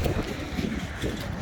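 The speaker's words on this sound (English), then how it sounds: "So forgive me for the wind." Wind buffets the microphone in a low, steady rumble that swells and dips, with no other sound standing out.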